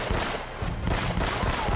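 Helena's gun firing in Uncharted: Drake's Fortune, a rapid series of loud, close shots in quick bursts with brief gaps, no voices over it.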